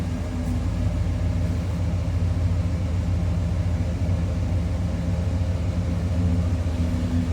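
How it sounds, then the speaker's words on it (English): Deep, steady V8 engine rumble from the exhaust of a 1987 Chevrolet Monte Carlo SS idling low and even, close by, with no talking. "hear the exhaust note on it too at the low idle"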